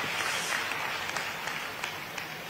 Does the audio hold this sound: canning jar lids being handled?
no